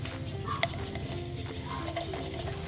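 Pork sizzles steadily on a hot gas grill, a constant crackling hiss with a brief clink near the start and no voices.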